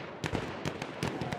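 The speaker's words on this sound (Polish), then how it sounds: "Ale te strzały by mogli trochę poprawić." Several sharp gunshot bangs in a quick uneven burst, close and punchy, from weapon fire in Battlefield 1 on PS4.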